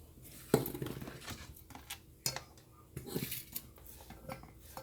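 Vegetables are stirred in with onions in a pan while making restaurant-style chicken chow mein: scattered clinks and scrapes of a utensil against the pan, one sharp knock early and a few louder clatters later, fairly quiet overall.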